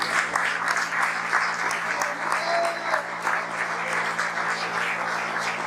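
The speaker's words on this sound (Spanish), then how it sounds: "Pídele un aplauso al Señor." A church congregation claps steadily and evenly all the way through, a dense, fairly distant wash of applause with a faint voice or tone rising briefly in the middle.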